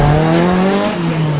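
A drift car driven by a 12-year-old in Ireland slides past with a loud, sustained tire squeal and droning engine tone, close and steady, fluctuating slightly in pitch as it holds the drift.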